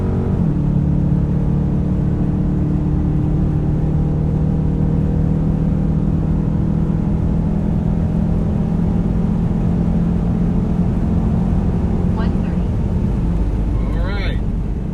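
Muscle car accelerating hard from 60 to 130 mph in a Dodge comparison of 5.7 RT, 6.4 Scat Pack and 6.2 Hellcat, a steady loud engine drone with wind roar throughout, heard from inside the cabin, with a voice speaking over it briefly.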